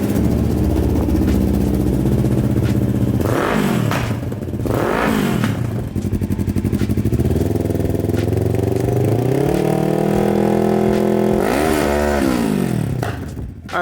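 A motorcycle fitted with a new exhaust runs in a garage, a loud close rumbling idle with several throttle blips that rise and fall in pitch, echoing off the walls.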